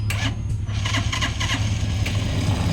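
An MD Auto 200cc scooter cranks and its engine catches, settling into a steady mid-pitched idle with a low hum and a few sharp mechanical clicks, close and fairly loud.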